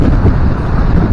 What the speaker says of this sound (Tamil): காத்துல நல்லா அடிக்குதுங்க.